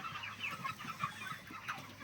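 Broiler chickens about 35 days old, raised on home-made feed on a poultry farm, cluck and chatter continuously as a dense, close flock, with no talking.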